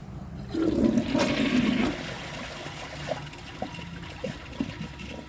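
A 2012 Jacuzzi Perfecta toilet flushing a washcloth and grocery bag together: a loud rushing flush that fades after about two seconds into quieter trickling and gurgling refill water.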